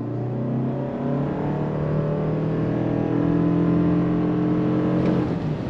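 A 2023 Toyota Sienna XSE minivan with an eCVT accelerating under throttle, its engine drone rising steadily and evenly in pitch from inside the cabin, continuous and moderately loud with no talk over it.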